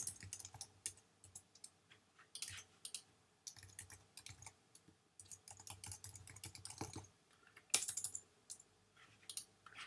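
Someone types personal information on a computer keyboard in quick bursts of soft, close key clicks, separated by short pauses, with no talking.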